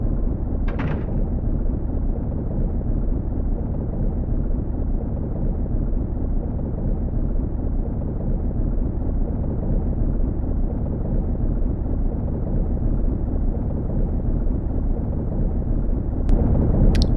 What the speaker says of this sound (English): We can hear a rumbling from beneath us.